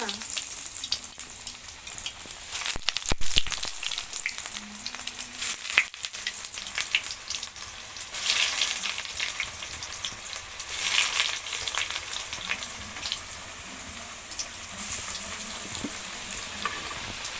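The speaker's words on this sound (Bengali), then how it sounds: "তেল এদিকে গরম হয়ে গিয়েছে, তো এবার একে একে চপগুলো সব দিয়ে দেব।" Steady, crackling sizzle of vegetable chops frying in hot oil, with occasional louder pops and stirring scrapes, continuous throughout.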